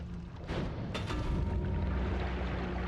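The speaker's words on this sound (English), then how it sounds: "That's a huge explosion" A huge explosion in the game Noita, a deep booming blast that swells and keeps rumbling loudly through the whole stretch, with a second sharp burst shortly after the first.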